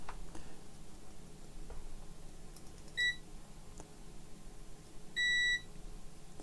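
Two short, high electronic beeps come from a multimeter in continuity mode while testing pins on a BIOS flash chip, clear over a quiet room hiss.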